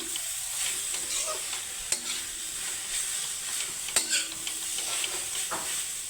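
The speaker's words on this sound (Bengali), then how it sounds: "এইভাবে নাড়িয়ে চাড়ে রাখতে হবে যাতে নিচে লেগে না যায়" Radish and soybean curry stirred in a pan with a spoon, steady sizzling under scraping strokes and a few sharper clinks, close and alone without speech.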